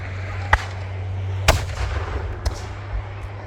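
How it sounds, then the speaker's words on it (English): Cannon shots at a War of 1812 battle re-enactment on an open battlefield: three or four sharp booms spaced about a second apart, the middle one loudest, each with a brief rumbling tail over a steady low hum. "Now with those cannon shots,"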